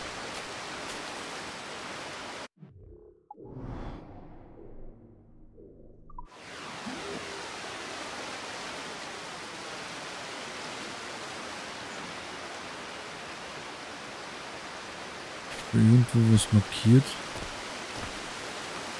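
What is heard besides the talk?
waterfall in a video game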